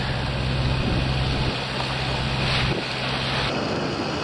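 A boat, the Merlin, makes a smooth pass on an Intracoastal Waterway inlet with breakers inside; a steady engine rumble and rushing wind and water noise fill the clip, with no talking.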